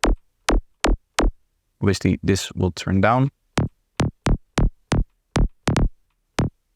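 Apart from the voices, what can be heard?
synthesized psytrance bass line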